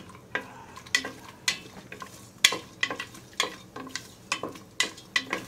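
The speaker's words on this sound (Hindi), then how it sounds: "साथ ही मैंने जो स्लाइस करके रखा हुआ था सूखा नारियल वो भी डाल दूंगी, और बिल्कुल धीमी आंच पे हल्का सा भून लेंगे" Cashews and sliced dried coconut being stirred as they roast on very low heat, with a series of crisp, evenly spaced scraping strokes over a quiet, faint sizzle.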